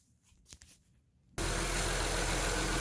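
A car engine cranks and starts, then settles into a steady, loud idle that continues to the end, warming up while the coolant is being filled.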